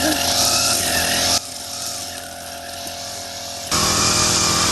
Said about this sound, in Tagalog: Nag-grass cutter na po ni Bossing.